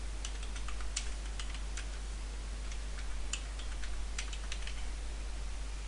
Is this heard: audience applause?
no